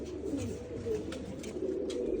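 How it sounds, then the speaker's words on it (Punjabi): A flock of domestic flying pigeons settled in a Punjabi village coos steadily and close by, a continuous low murmuring with no talk over it. "ਬਹਿ ਗਏ ਆਪਣੇ ਕਬੂਤਰ ਸਾਰੇ"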